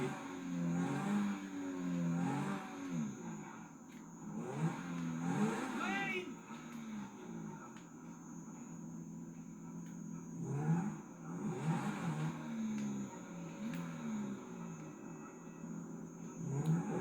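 A car engine in Grand Theft Auto V revs and rises in waves while driving, under someone talking over it for much of the stretch.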